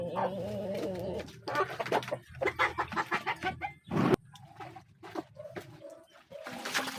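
Rhode Island Red hen clucking and squawking in agitated bursts while being handled up close, with fluttering and rustling between the calls.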